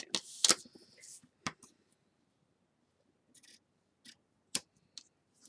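Scissors snip through the excess paper trimmed off a handmade file folder junk journal spine, a few sharp close cuts at the start and scattered lighter clicks of paper handling after, in a quiet room.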